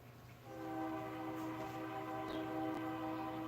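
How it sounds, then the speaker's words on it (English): A train rumbles steadily nearby with sustained tonal hum, a brief horn-like tone rising over the continuous rolling noise. "I hear a choo-choo."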